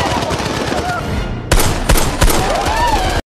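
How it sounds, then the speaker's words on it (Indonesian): Several sharp gunshots ring out in an action film scene on an island overrun by armed criminals, a burst of three or four loud cracks after a stretch of background ambience, with a brief sweeping tone near the end. "tiba-tiba Gasper mendengar suara tembakan"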